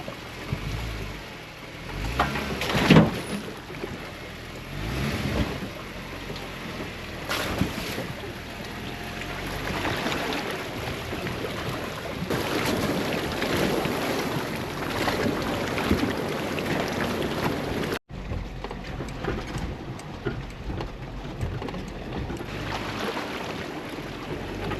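An off-road overlanding vehicle plows through a deep water crossing on a rocky Colorado trail, with sustained churning, splashing water and engine noise, rising and falling in bursts, with a brief cut near the end.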